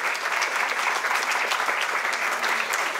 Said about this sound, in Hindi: आप लोग ताली बजा के उनका स्वागत करें।